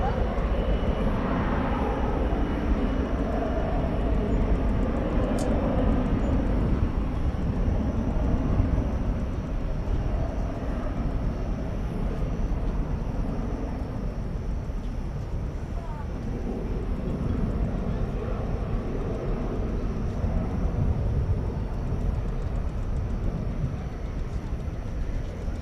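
Airplanes at DFW Airport at night, a continuous broad jet engine roar at middle distance that swells and slowly fades, with radio chatter and talk faintly heard over it.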